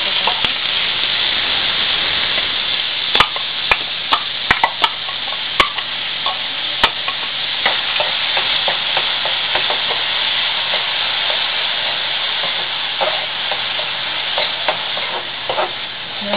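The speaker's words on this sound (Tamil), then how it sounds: "வெங்காயம் நல்லா வதங்கணும்." Onions sautéing in oil in a pan for tomato thokku, a steady sizzling hiss broken by sharp clicks of stirring, close and alone.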